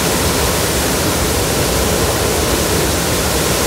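Water bursts with great force from the outlet of the Castanhão reservoir dam, a loud, dense, unbroken roar filling the whole clip.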